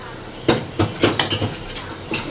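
Boiled mutton from a pressure cooker goes into a pot of spicy kosha curry masala, a series of sharp metallic clanks and scrapes of utensil on cookware, about six knocks in quick uneven succession, close and clear.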